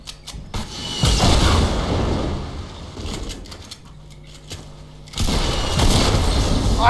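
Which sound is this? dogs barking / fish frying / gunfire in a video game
gunfire in a video game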